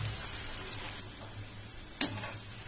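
Rava bonda frying in hot oil, a steady soft sizzle and bubbling with a brief sharper crackle near the end, close and moderately quiet.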